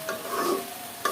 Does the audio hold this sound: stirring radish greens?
yes